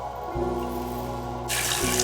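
Water running from a tap to fill a hamster's water bottle, a steady close stream with a low hum that briefly shifts and rises near the end.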